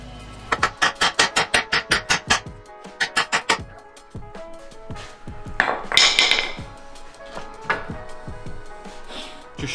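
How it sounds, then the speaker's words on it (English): Hammer blows ring against the steel suspension arm of a VW Transporter T5/T6 van to shock loose a taper-fit ball joint: a rapid run of about a dozen sharp, loud metallic strikes, then scattered knocks and clanks. "I'm going to have to give the arm a bit of a shock with a hammer"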